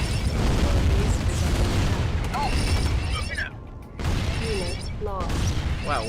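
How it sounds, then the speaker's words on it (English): Heavy, booming airstrike explosions in Command & Conquer Remastered, a loud rumbling barrage that rolls on for several seconds, dips briefly, then surges again, with a voice speaking over the blasts. "Airstrike!"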